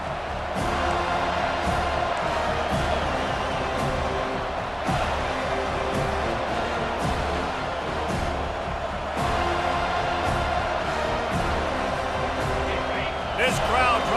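Stadium crowd noise in a college football video game, FSU against Oregon: a steady loud roar with rhythmic thumps and swells, running under continuous commentary.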